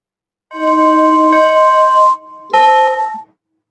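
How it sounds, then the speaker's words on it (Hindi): A loud two-part bell chime sound effect plays in an online biology quiz class: a long ringing tone followed by a shorter second ding, alone and clear. "इस बार भी घंटा बजेगा।"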